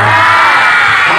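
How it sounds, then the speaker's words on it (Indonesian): A crowd at a religious lecture bursts into loud, close clapping and cheering with some shouts, a dense, brief surge of noise. "cukup dengan tepuk tangan."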